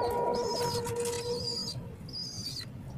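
Pet pigeons in a backyard bird house, including white, checkered and red bar birds, giving soft low cooing under steady background noise and a few faint bird calls.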